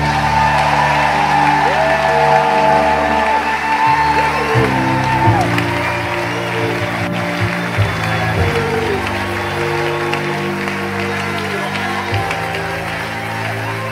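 A church congregation cheers and applauds at a sermon, loud shouts and whoops mixed with clapping and dense crowd noise that carries on the whole time.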